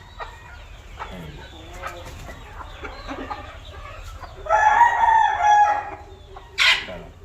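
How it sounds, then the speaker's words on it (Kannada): Roosters crow at a farm, one loud nearby cock-a-doodle-doo stretching over about two seconds followed by a short sharp burst, with fainter crowing and clucking from other fowl in the background beforehand. "ಈ ಹುಂಜಗಳ ಕಾಟ ಜಾಸ್ತಿ ಆಗೋಗಿದೆ ಇದಕ್ಕೆ"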